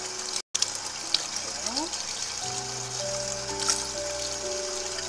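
Running tap water rinses a cleaned chub mackerel being prepared for salting, a soft continuous gush and splash under faint background hum, with a brief dropout near the start.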